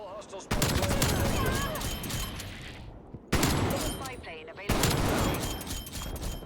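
Gallo shotgun fire in a Black Ops Cold War match on the Armada map comes as three sharp, loud bursts, each trailing into chaotic game noise, with a voice talking over the action.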